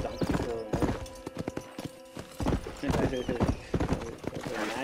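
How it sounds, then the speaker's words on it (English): A donkey ridden in the Red Dead Redemption video game, its hooves clip-clopping in a quick rhythmic series of close, sharp hits, with occasional pauses and a game soundscape behind, and no voices. "You got a donkey for a horse?"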